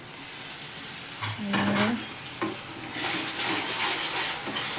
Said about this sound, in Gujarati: હવે આપણે તેલમાં પકવી નાખીએ હવે જો આપણે નાખી દઈએ ટામેટા